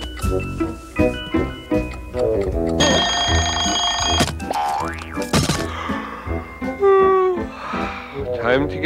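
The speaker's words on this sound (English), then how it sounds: "I'll set the alarm." A cartoon alarm clock from the 1988 animated series Garfield and Friends rings in a loud, bright burst, set among springy boings and other comic sound effects in quick succession.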